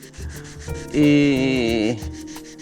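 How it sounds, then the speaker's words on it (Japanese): A vinyl record is polished by hand, giving short close rubbing strokes that rise into a squeaky, whining friction tone for about a second before fading back to soft rubbing. "今日もね、レコード盤を磨いていこうと思います"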